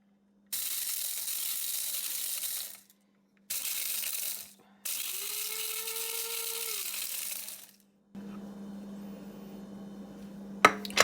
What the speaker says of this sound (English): I'm going to try to grind some in my spice grinder